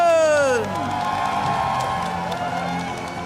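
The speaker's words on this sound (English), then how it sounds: "And one more huge round of applause for your trading card game Masters Division champion, Edwin Mesman!" A crowd at a Pokémon trading card game championship final cheers and whoops loudly for the Masters Division champion, with applause underneath, after a brief falling shout at the start.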